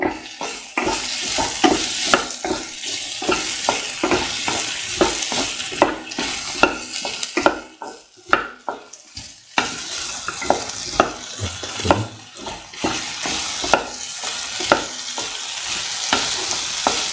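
Eggplant, potato and tomato stir fry with green chillies sizzles steadily in a pan, with frequent sharp scrapes and clicks of stirring punctuating the continuous frying hiss throughout.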